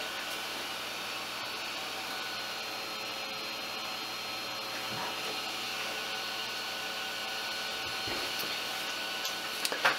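An Anet A8 3D printer fitted with an E3D V6 hotend, suffering a filament jam, runs with a steady mechanical whir and hum that holds for the whole stretch, fairly close, with a few faint clicks near the end.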